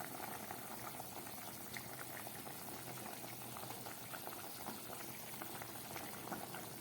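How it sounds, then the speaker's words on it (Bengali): A cauliflower and potato curry gravy bubbles in a pot with a faint, steady boil and soft popping throughout, and no voices. "ফুলকপি আলুর ঝোলটা দেখুন ফুটে উঠেছে।"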